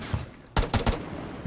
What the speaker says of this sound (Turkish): Karşıdan çıkanı mı vurdun?